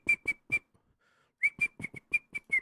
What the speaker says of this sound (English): Blow your whistle, bitch.